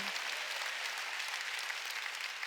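A church congregation claps together during a Korean Wednesday service, a faint but continuous patter of many hands heard from a distance and holding steady for a few seconds.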